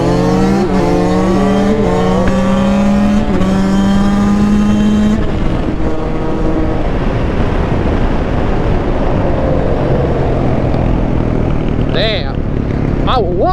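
A truck accelerates hard in a roll race, its engine note climbing in steady harmonic sweeps before a gear change and then droning on loudly, with people talking over it from inside the cab.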